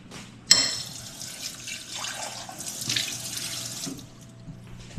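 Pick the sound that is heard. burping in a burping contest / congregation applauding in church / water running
water running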